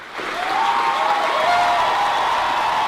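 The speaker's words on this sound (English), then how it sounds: "It was just this non-stop cheering." Sustained applause and cheering from a large crowd at a college graduation ceremony, a dense steady wash of clapping with a whistle-like cheer tone running through it, loud and continuous throughout.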